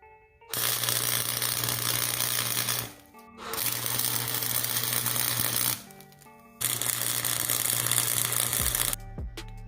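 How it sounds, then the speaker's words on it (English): Flux-core welder tack welding a clutch linkage on a 1963 Ford F100 during a hydraulic clutch conversion: three sustained crackling, sizzling bursts of several seconds each, separated by short pauses, loud and close with no talk. "now I'm just kind of tacking this thing in place here"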